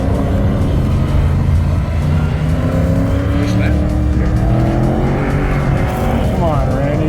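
A race car at an SCCA autocross event, its engine droning loudly and continuously, with rising and falling revs through the course, heard close alongside people talking and cheering.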